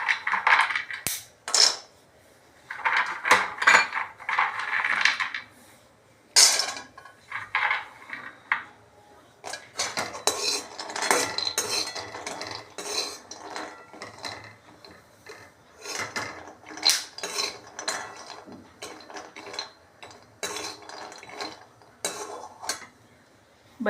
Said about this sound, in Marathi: थोडं तूप टाकून आपण बदाम भाजून घेत आहोत. बदाम भाजत आले की त्यातच आपण काजू टाकणार आहोत.